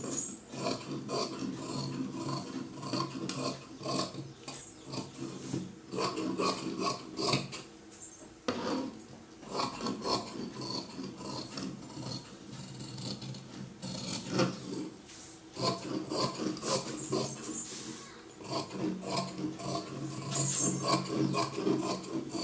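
Blouse fabric being cut with scissors, a run of close, rasping snips and rubbing strokes repeated steadily, with a few brief pauses, no talking.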